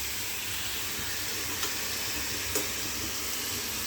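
Tomatoes stirred into spinach in a hot pan, a loud steady sizzle with two brief scraping stirs.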